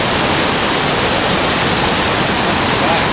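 A fast-flowing creek of melted snow rushes loudly and steadily, a dense roar of churning water close by with no breaks.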